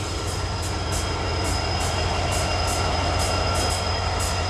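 A freight train sits at a signal with a steady, continuous rail rumble and regular high clicking beats, suggesting wheels over rail joints as it gets rolling; no voices.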